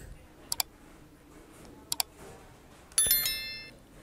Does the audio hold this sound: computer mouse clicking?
yes